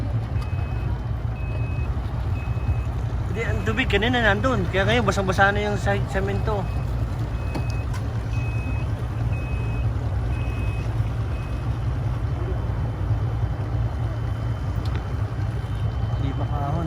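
A vehicle backs up to load a jet ski beside the water, its reversing beeper sounding in a short burst over a steady low engine rumble on wet concrete while people talk.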